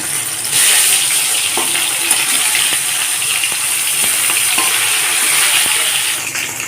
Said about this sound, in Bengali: দিয়েছি সর্ষের তেল তেলটা গরম হয়ে গেছে এখন মাছগুলোকে দিয়ে ভেজে নেব